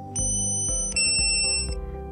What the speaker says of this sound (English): The controller will beep and you should change the batteries as soon as possible.